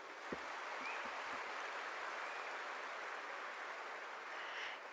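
Crowd at a spiritual festival gathering applauds in a steady, distant wash of clapping that stays even and sustained throughout, with a few sharper claps near the start.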